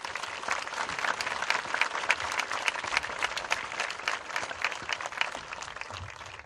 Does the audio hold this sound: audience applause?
yes